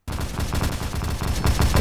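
Rapid bursts of gunfire from a Roblox shooter game, dense and continuous for the whole stretch, growing slightly louder toward the end with no talk over it.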